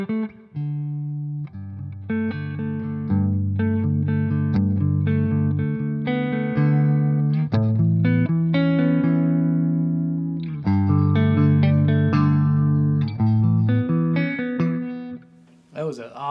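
Clean electric guitar played through a REVV Dynamis D40 amp rings out loud and close: strummed chords and single notes with long sustain and some reverb, pausing briefly midway, with no talking over it.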